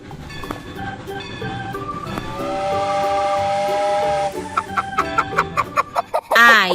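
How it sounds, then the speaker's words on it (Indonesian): A cartoon chicken clucks in a quick series of short calls, then gives a higher wavering cry at the end. A steam train whistle and a bright melody play underneath, and nobody speaks. "ayam,"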